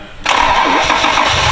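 A car engine with trouble traced to its traction-control throttle bodies cranks and catches, bursting into a loud, steady running roar close by, with no voices over it.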